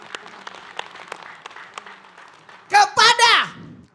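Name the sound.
applause for Ibu Uis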